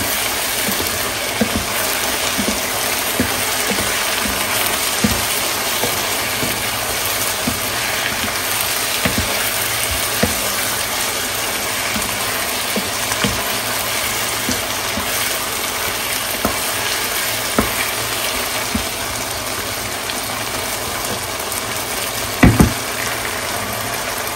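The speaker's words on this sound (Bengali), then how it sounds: "আমি শুধু ভাজিই দেখাচ্ছি" Frozen okra fries in a pan with a steady, close, broadband sizzle that holds evenly for over twenty seconds, broken by scattered light clicks and a brief sharp knock near the end.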